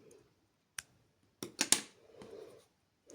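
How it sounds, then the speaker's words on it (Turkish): Scissors snip embroidery thread during Turkish needle lace (iğne oyası) edging work: a few quiet, sharp close clicks, one single then a quick cluster of two or three, with faint handling noise between. "ipini kesiyorum"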